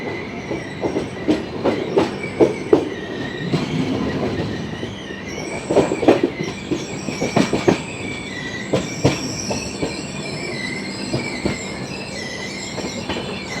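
Deccan Queen express train from Pune to Mumbai halting at Khandala station before the ghat section, with steel wheels squealing in high drawn-out tones over repeated rail clacks and a steady rumble, no voices.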